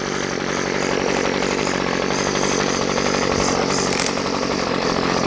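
A Partner Colibri 25 two-stroke string trimmer runs close by with a loud, buzzy, steady engine drone that wavers slightly, as if hesitating, with no talk over it.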